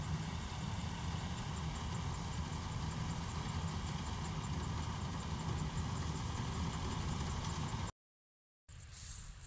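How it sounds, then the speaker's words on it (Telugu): A harvester machine cutting paddy in a field drones steadily, a continuous engine rumble heard at moderate distance with no speech, before a brief dropout and a short return. "చూస్తున్నారా అండి మిషన్ కోయడము"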